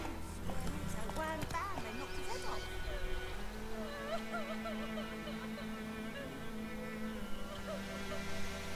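Horse in The Witcher 3 game moving at speed, its hoof beats blending into a steady bed of game sound and music, with someone speaking over it.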